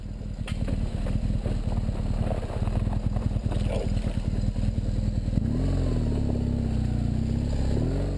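Dual sport motorcycles, a BMW F800GS and HP2, ride along off-road trails, their engines droning steadily and close with rough clattering, then settling into a smoother, rising rev toward the end.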